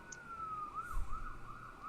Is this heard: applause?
no